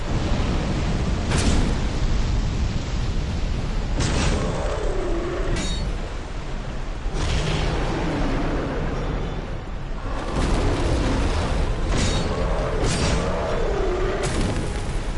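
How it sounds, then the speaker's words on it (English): Old Iron King, a Dark Souls 2 boss, unleashes a fire breath attack: a loud, sustained roaring rush of flame with deep rumbling booms and several sharp bursts layered over it, dense and continuous throughout. "Old Iron King loves his fire breath"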